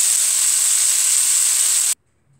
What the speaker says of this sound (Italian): cuocere le polpettine in padella.